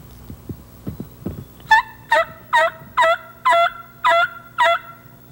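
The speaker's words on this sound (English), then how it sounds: "You make a few calls like a lonely hen, then wait." A wild turkey gobbles six times in a steady rhythm, loud and fairly close, after a few softer low hen-like clucks at the start, during a turkey hunt in Dickinson County, Michigan.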